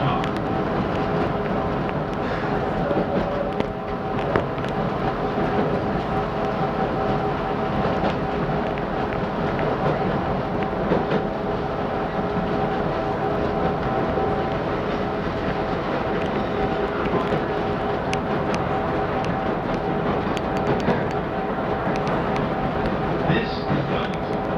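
Chicago elevated L Brown Line train to Kimball running at Wellington, a steady, close rumble of the car with faint rail clatter and constant hum throughout, no talking heard.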